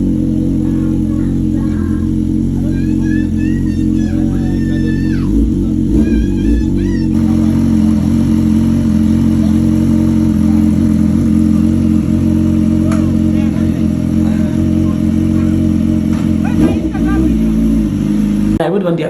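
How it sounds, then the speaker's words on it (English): A power bike motorcycle ride in Abuja, Nigeria, a loud steady engine drone with rising revs and shifts, mixed with wind and occasional voices in the background. "I rode a power bike."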